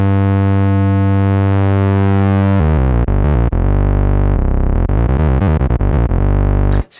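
A Moog Subsequent 37 analog synthesizer plays a thick, fat tone with its sub-oscillator engaged: a sustained low note first, then a run of choppy, distorted bass notes, loud and up close with no voice.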